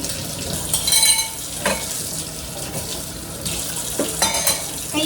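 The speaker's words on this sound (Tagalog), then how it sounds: "maghugas muna ako nitong aking mga ginamit na utensils. Mga plato." Used utensils and plates being washed at a kitchen sink while a pot of ginataang tuna simmers: running water splashes with intermittent clinks and clatters of dishes, close and fairly steady.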